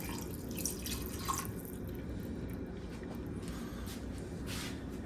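White vinegar, one cupful, poured into a homemade hot sauce, making a steady liquid trickle and drip that runs unbroken for about five seconds, close and fairly quiet, with no talking.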